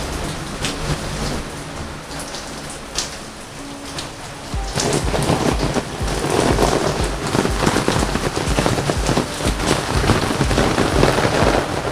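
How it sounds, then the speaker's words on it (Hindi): Heavy monsoon rain pours down in Haridwar, a steady dense hiss that grows louder and fuller partway through, with distant thunder rumbling underneath and no voices. "और यही बारिश, यही तो चाहिए था।"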